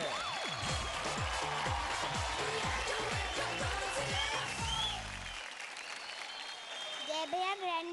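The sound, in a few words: audience applause for Master Mudassar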